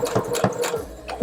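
A sewing machine back stitches at the edge of fabric for an envelope pillow, a quick close run of rhythmic mechanical clicks and whirring stitches, moderately loud and steady, with no voices.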